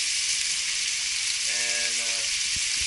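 Beef short ribs browning in a pot for a braised ragu give off a steady, close, broadband sizzle that runs unbroken through the whole stretch, with a few faint tonal clinks partway through.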